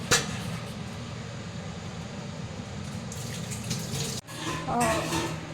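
A kitchen tap runs water over a utensil being washed clean of chocolate, a steady close splashing stream with brief clatters and a short break near the end.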